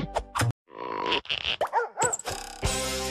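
A dog barks and yips in a few sharp bursts, loud and close, mixed with cartoon-like effects and a short musical flourish.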